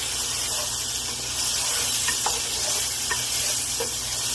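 Ingredients for a ramen-style dish being stirred in a hot pan: a steady, loud sizzle and hiss of frying throughout, with faint scraping stirs and light clinks inside the constant noise.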